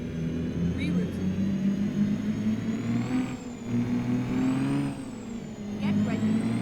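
Kenworth K100 cabover truck engine in American Truck Simulator, a loud continuous diesel drone with rising and falling revs, running steadily beneath intermittent talk.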